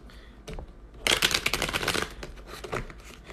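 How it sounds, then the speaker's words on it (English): Tarot cards are shuffled up close, with a burst of rapid riffling and crisp flapping for about a second, then softer intermittent card rustles. "So shuffle up the cards here."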